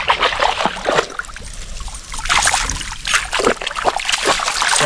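A Kanni dog swimming and paddling in water, with continuous close splashing and trickling sounds rising and falling throughout, loud and without speech.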